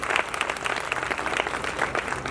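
An audience at a Brahma Kumaris new building inauguration in Bapoli, Panipat, breaks into dense, steady applause, many hands clapping together close by.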